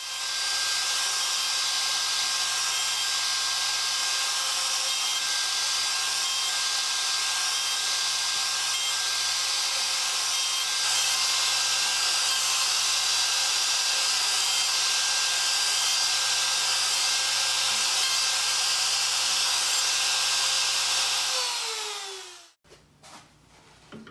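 A rim lathe whirs in a steady, even tone while cutting the inside of a wooden banjo rim, running continuously and close before spinning down abruptly near the end.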